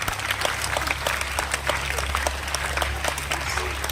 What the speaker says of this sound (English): A big round of applause for you as well.